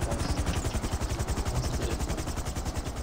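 Helicopter in the GTA 5 video game, its rapid rotor chop pulsing steadily and loudly throughout, a dense thudding rhythm over broadband engine whine.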